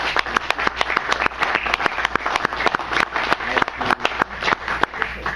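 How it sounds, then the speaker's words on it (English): Audience applause at a wrestling hall of fame event, with dense, steady clapping from a large crowd filling the whole stretch at a moderate level. "how about a big round of applause for all of you who are collected here tonight and those on our stage"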